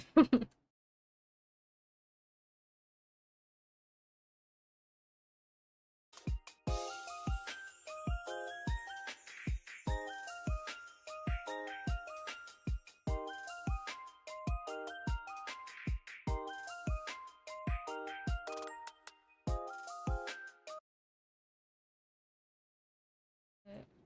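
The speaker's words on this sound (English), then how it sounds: "my dad's calling. I gotta answer the phone" A phone ringtone plays a bright, repeating electronic melody of plucked-sounding notes, steady and fairly close for about fifteen seconds after a stretch of silence, with no one talking over it.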